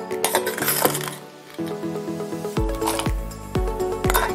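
Ice cubes drop into a glass for iced coffee with sharp clinks and rattles, several separate drops ringing as the cubes settle, close and fairly loud with no talk.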